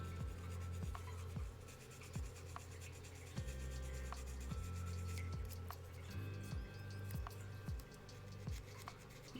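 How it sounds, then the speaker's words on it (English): Sandpaper rubbing over light curing putty on a garage kit figure, a close, steady scratchy rasp with regular back-and-forth strokes. "About done with this sandpaper."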